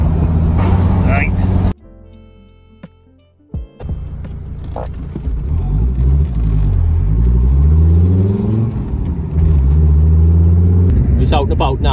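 A Mercedes 190E on 18-inch AMG Monoblock wheels drives along, its engine rumbling and throbbing steadily with rising and falling revs and road noise, after a brief quieter stretch near the start.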